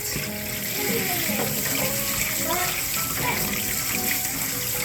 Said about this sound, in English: Wash out your pumpkin very good. Wash off all the dirt.